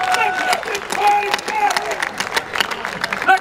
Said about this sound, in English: Let's just get a round of applause for that little exchange.